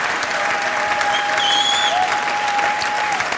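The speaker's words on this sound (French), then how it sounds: "j'aimerais qu'on débute ces instants en applaudissant très fort le Roi des Rois" Loud, dense applause from a celebration audience fills the whole span, steady and sustained with a few faint whistles or cheers riding on top.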